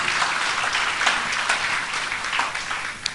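A church congregation breaks into steady applause during a worship service, a dense wash of many hands clapping that carries on evenly, with a few sharper claps rising out of it near the end.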